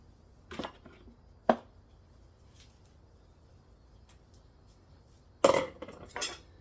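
Small bowls and cutlery clinking in a kitchen, with a few scattered sharp clatters and knocks separated by quiet pauses, then a busier burst of clinking dishes near the end, all close by.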